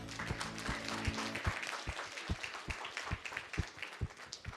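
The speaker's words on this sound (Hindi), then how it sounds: "एक जोरदार तालियां चाहता हूं सर के लिए प्लीज।" Scattered claps from a small audience at a Modicare business meeting, uneven and moderately loud, with a low hum underneath that fades after the first second.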